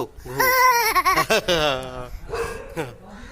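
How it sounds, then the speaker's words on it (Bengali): A dog barks several times on the street while people talk and a voice chatters over it. "রাস্তায় কুকুর ডাকছে"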